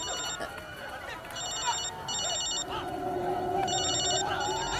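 A mobile phone rings in short repeated electronic bursts over a tense, busy background with a sustained tone, the rings coming in separate groups at moderate volume.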